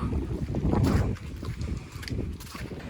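Gusty wind buffets the microphone in low, rumbling bursts, strongest at first and then easing to a steadier blustery noise outdoors on a wet, slushy, thawing street at about plus 5 degrees.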